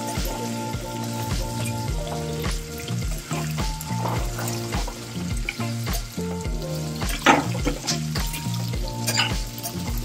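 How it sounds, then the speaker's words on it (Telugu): Onions, curry leaves and spices frying in a pan for an okra and onion masala, a steady sizzle and the odd stir sitting beneath loud tonal background music for the whole stretch. "కొంచెం పచ్చివాసన పోయేదాకా వేయించుకుందాం."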